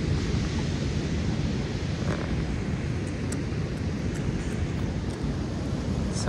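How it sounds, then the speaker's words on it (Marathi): Ocean surf at Agonda beach in Goa roars as a steady, dense wash of breaking waves, loud and continuous with some wind rumble, no voices over it. "आता दिसत नाहीये पण पाण्याचा आवाज आहे. लाटांचा आवाज खूप दिसतोय."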